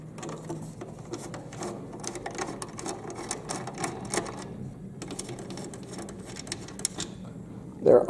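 Nuts are removed from the ice crusher housing of a Frigidaire Gallery refrigerator, giving a steady, rapid mechanical clicking and whirring close by, like a small powered driver. It pauses briefly and ends with a louder clatter.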